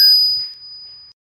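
A single bright bell notification chime rings out alone, a sharp ding whose clear tone rings on for about a second before stopping.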